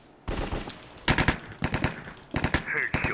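Rapid automatic gunfire in the Minecraft MineStrike mini-game, loud close bursts of repeated shots separated by short pauses, with brief game sounds between volleys.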